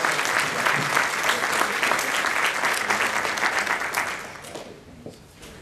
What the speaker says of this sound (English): Let's see a round of applause